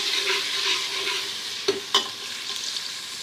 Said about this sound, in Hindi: और एक से दो मिनट इसको भून लेते हैं ताकि लहसुन कच्चा ना रहे